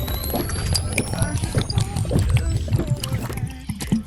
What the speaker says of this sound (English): We'll fill up some washer fluid quickly